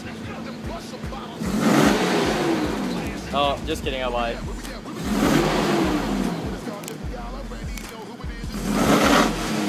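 A Toyota 4Runner V6 fitted with a TRD exhaust kit revs hard three times, each loud swell rising and dropping back to idle close by, while someone talks between the revs.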